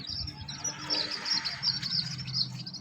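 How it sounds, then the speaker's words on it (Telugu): Newly hatched chicks from an incubator chirping in a steady run of high, thin peeps, close and fairly clear, with faint low background noise and no talking. "ఫస్ట్ ఫస్ట్ వచ్చిన పిల్ల ఇది"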